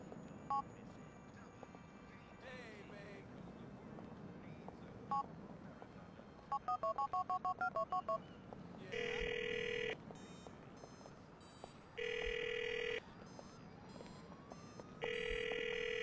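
A phone call in the video game GTA IV: a short burst of keypad dialing tones, then an electronic ringtone that repeats three times in evenly spaced loud bursts over quiet background ambience.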